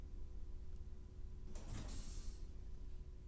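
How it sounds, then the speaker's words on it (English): An airlock door in the video game Space Engineers closes with a brief, faint mechanical hiss and slide over a steady low hum, with no talking. "if I press the button, airlock door closes"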